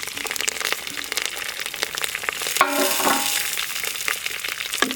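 Curry leaves, garlic and green chili hitting hot oil in a pan: a steady crackling fry with a sharper burst of sizzle midway, close and moderately loud.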